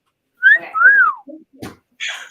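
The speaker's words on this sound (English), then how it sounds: "I got a whistle." A whistle is blown in two short, warbling blasts, close and clear, followed by a couple of faint clicks and a soft breathy hiss.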